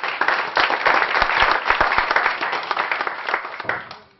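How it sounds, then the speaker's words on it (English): On request, an audience at an institute talk by Swami Dayananda Saraswati claps in a dense, steady burst of distinct hand claps, tapering off over the last second with little talk. "Suppose, now I request you, please clap."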